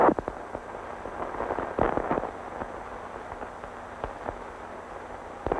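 Retrorockets firing on the Faith 7 spacecraft, heard over a space-mission recording as a string of sharp crackling bursts and pops above a constant background hiss, with no talking.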